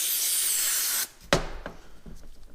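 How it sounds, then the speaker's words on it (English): A steady, close hiss of brake cleaner sprayed onto greasy slide pins from a BMW E46, E36 or E30 brake caliper, cutting off after about a second, followed by a few light metallic knocks and handling noises. "you want to clean that off with some brake clean"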